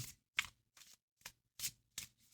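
A tarot deck being shuffled by hand in quick, separate riffling bursts, about six short crisp rustles with silent gaps between, close and quiet with no talking.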